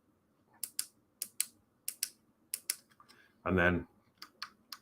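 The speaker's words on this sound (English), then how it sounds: "you can see that there's a nice satisfying click on that" A pedal on a VW T1 Samba scale model gives small, sharp clicks in quick pairs, repeated several times close up, with a brief spoken phrase breaking in midway.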